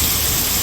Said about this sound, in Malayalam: കോരിച്ചൊരിയുന്ന മഴ, ആ മഴയത്ത് ടാറ് ചെയ്യുക.